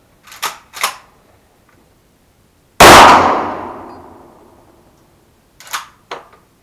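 A 12-gauge pump-action shotgun fires a slug into a steel gong outdoors: one sharp, loud blast and metallic clang that rings out and fades over about two seconds, with a few faint clicks and knocks before and after.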